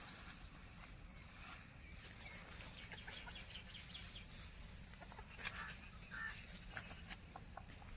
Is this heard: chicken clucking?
yes